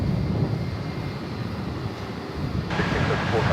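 An American Airlines jet roars down the runway on a night takeoff from DFW Airport, bound for Kansas City. The steady broadband rumble is heard from a distance and swells slightly toward the end.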